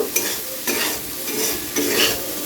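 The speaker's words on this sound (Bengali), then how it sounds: "নুন হলুদ দেওয়ার পরে খুব ভালো করে আবারও একবার ভেজে নেব" Vegetables frying with salt and turmeric for sabudana pulao give a loud, steady sizzle, with the spoon stirring and scraping the pan in strong sweeps about once a second.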